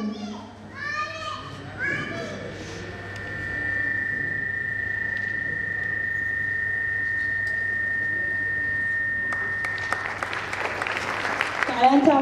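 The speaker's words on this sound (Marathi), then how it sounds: "टाळ्यांचा आवाज येते, जोरदार आला पाहिजे." A voice speaks over a PA with a steady electronic whine before the audience at a preschool annual day gathering bursts into applause near the end, mixed with children's chatter.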